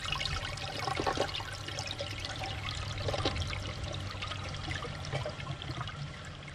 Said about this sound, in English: he reaches up there and he flushes the toilet